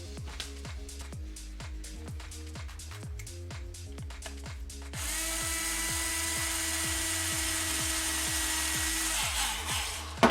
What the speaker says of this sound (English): And we'll drill this one.